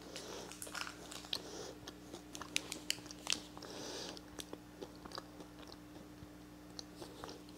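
Someone chews a chocolate caramel candy with a cookie inside, giving close, quiet crunchy bites and wet chewing clicks in irregular bursts.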